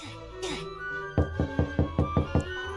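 A door knocked on inside the Roblox game world: a quick series of about seven evenly spaced, hollow knocks, heard close and clear over quiet background game music.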